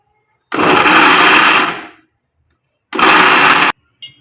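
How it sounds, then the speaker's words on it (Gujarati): A mixer grinder crushing tomatoes roars in two short bursts, about a second each, with a brief silence between and a tiny blip at the end. "આપણે ટમેટાને સુધારી રાખ્યા છે અને આપણે મિક્સરમાં ક્રોસ કરી નાખીએ"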